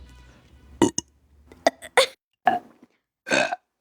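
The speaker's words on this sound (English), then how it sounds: "I can burp on command." A young woman burps on command several times, loud, close-up belches in separate bursts with short pauses between them, ending in a longer drawn-out burp.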